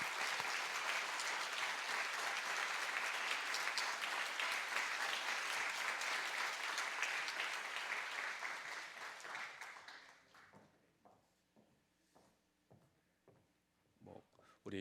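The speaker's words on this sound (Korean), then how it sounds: "크게 박수로 축하해 주시기 바랍니다." A church congregation applauding at a ceremony, sustained loud clapping for about ten seconds that tapers into a few scattered claps and faint movement.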